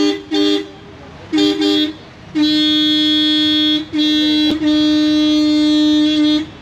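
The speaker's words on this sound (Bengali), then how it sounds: "হর্ন চেক হচ্ছে এখন।" Horn on a Maruti Brezza being tested during replacement, sounding two short bursts then two long sustained blasts, loud and close with a bright, tonal honk.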